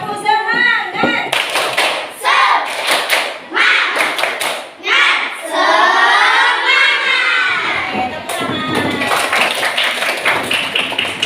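A group of schoolchildren claps out a rhythmic spirit clap in loud, patterned bursts, with shouted chanting and voices mixed between the clap sequences.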